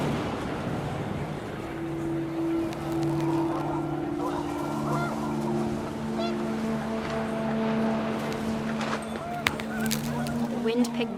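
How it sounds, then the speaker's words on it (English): Panicked geese honk repeatedly in drawn-out calls against steady outdoor wind noise. The honking sounds moderately close, with overlapping cries that come and go. "The wind picked up and panicked geese appeared and quickly went."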